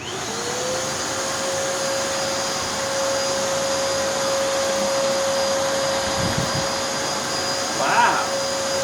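A Hoover NanoLite vacuum cleaner runs steadily with its brush roll stopped, sucking up sand and baking soda; a loud continuous motor whine holds throughout, with a short rattling burst near the end and a brief voice.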